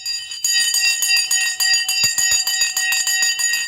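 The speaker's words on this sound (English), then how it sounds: "The bell has gone on the end of a great day." A stock market closing bell rings continuously at the end of the trading day, a loud, bright, sustained metallic clanging with rapid repeated strikes that starts after a short quiet moment and carries on to the end.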